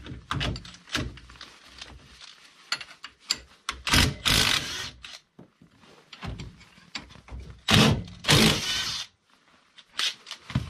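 A ratchet backs bolts off the rear of a CFMoto 520L ATV during a rear-lift job, in quick bursts of close, sharp clicking separated by short pauses and clunks.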